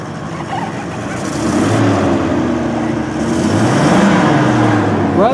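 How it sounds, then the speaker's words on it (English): A 1977 Mercedes-Benz 450SLC coupe engine runs at a steady, fairly loud idle with a low droning hum and slight rises in pitch, heard close by with some faint background noise. "Let me go ahead and fire it up for you."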